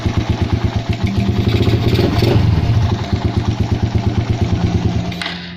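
A Raider 150 motorcycle engine, still cold, idles steadily at close range, a rhythmic low chugging with metallic clatter, holding an even pace throughout before briefly cutting down near the end.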